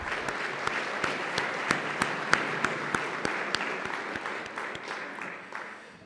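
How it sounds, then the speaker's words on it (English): A room of people at a civic association meeting gives a round of applause for their representatives, a steady, moderately loud patter of many hands with a few sharp, distinct claps standing out, fading slightly toward the end. "Let's give our representatives a round of applause."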